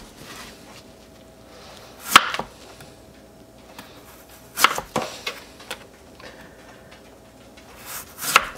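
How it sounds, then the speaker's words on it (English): Detroit red beets are chopped with a knife on a board in a few sparse, sharp cuts separated by quiet pauses, close and fairly loud, without talk. "Alright, let me chop up some of these, get the dehydrator filled."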